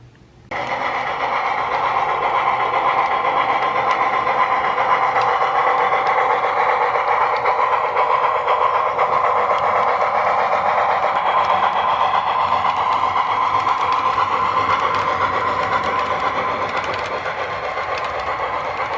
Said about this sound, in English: The New Jersey Transit train stops short of the platform so that those on the platform can get a good look at the excursion train as it roars by